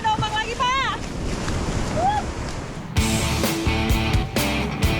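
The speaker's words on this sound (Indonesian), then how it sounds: "ada ombak lagi" Sea waves wash and surge nearby on the Java coast amid wind noise, with a louder rush of surf breaking toward the end.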